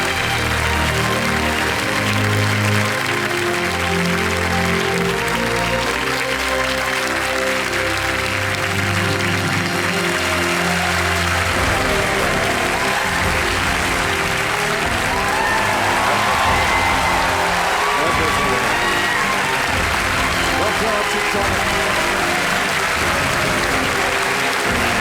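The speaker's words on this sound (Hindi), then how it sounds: "तालियों के साथ अभिनंदन किया जाए" Sustained, dense applause from a studio audience welcoming a guest on the Indian quiz show Kaun Banega Crorepati, loud and continuous for the full stretch with faint crowd murmur beneath.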